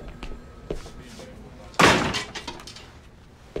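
A door slams shut with one loud, sharp bang midway through a quieter room, followed by a short decaying rattle and faint background sounds.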